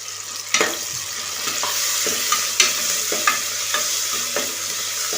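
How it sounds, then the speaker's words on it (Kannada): Tomato and green chillies fry in a pan for pumpkin rice, a steady loud sizzle broken by regular scraping strokes of a spoon stirring about once a second, close and with no talk. "ಚೆನ್ನಾಗಿ ಫ್ರೈ ಆದಮೇಲೆ ಟೊಮೊಟೊ ಹಾಕ್ಕೊಳ್ಳಿ, ಹಸಿರು ಮೆಣಸಿನ್ಕಾಯಿನ ಅದ್ರ ಜೊತೆನೇ ಹಾಕ್ಕೊಳ್ಳಿ."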